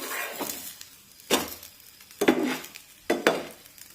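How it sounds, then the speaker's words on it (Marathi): Spatula scrapes and clinks against a pan as a poha dhirde pancake is turned, with bursts of sizzling frying after each flip, repeated about four times, close and moderately loud. "हे धिरडं आपण पलटून घेऊया"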